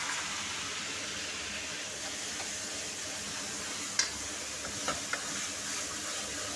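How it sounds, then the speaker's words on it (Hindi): Onions frying in hot oil on a medium flame for egg curry, a steady soft sizzle throughout with a few faint stirring clicks near the end. "ये हमारा प्याज पक रहा है, इसे हम खूब अच्छे से पकाएंगे"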